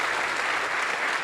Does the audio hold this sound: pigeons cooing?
no